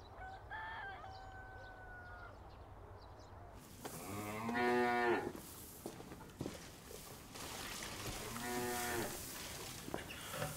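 Cattle moo twice in long, loud, close calls on a farm, with a rooster crowing faintly in the background before them and no talk.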